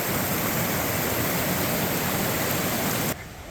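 Steady rushing of French Creek flowing over rocks, a dense continuous wash of water noise close by that drops suddenly quieter just before the end.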